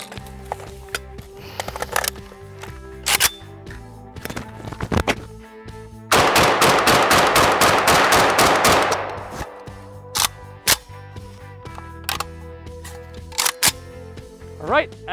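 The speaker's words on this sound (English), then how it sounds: "Let's put some AK rounds downrange for good measure." AK rifle rounds fired downrange at an office chair outdoors: loud single gunshots, then a rapid burst of about a dozen sharp reports, followed by a few more scattered shots.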